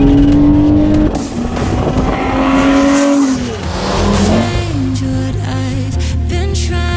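A loud Nissan 350GT engine revving hard and holding at the rev limiter, bouncing and stuttering repeatedly with a buzzy, choppy roar, close up.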